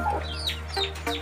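Chickens near a coop with chicks, short close clucks and chirps in a quick irregular series over a steady low hum, with no talking.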